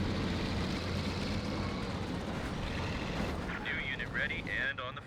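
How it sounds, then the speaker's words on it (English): Panzerwerfer rocket barrage explosions in the Company of Heroes 2 video game, heard as a continuous rumbling roar of blasts with whistling tones near the end, under voices and other battle noise. "Panzerwerfer barrage could be right here. Close range barrage annihilates the rifle squad"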